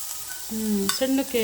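Black pepper, cumin and washed doddapatre (Indian borage) leaves sizzle in a little ghee, a short, close frying hiss as they are stirred.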